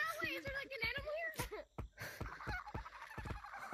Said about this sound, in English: Who's making those bird noises?